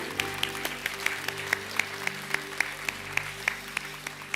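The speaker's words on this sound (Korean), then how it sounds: "우리 하나님께 영광의 박수 올려드리겠습니다" A church congregation at a summer short-term mission report service claps together in a steady, even beat. Sustained tones from instruments or voices hold underneath the clapping.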